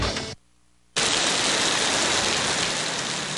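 Heavy rain makes a loud, dense, steady hiss that cuts out briefly near the start and then comes back just as strong.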